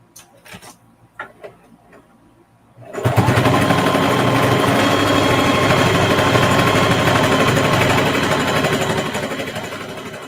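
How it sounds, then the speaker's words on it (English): A sewing machine stitches fabric for a quilted zipper pouch, starting after a few quiet clicks and handling sounds, then running steadily and loudly with a fast even whirr for about seven seconds before easing slightly at the end. "I'm just gonna sew straight off."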